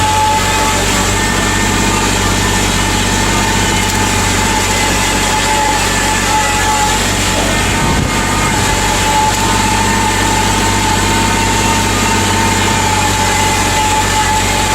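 A Kubota L2501 compact tractor with a Land Pride BB1260 blade plows a snowy driveway, its engine droning loud and steady throughout, with a brief bump partway through and no one talking.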